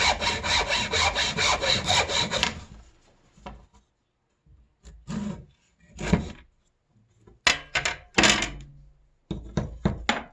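Hand saw cutting wood at a workbench during a bicycle single-speed conversion, about a dozen quick rhythmic strokes, then a pause with scattered knocks and handling thuds before a few short bursts of sawing resume, close and loud.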